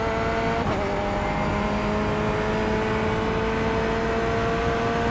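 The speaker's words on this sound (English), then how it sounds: "is the audio from the car too loud?" Corvette C8.R race car engine in the iRacing video game, a loud steady drone with sustained harmonic tones running throughout, alone with no talk.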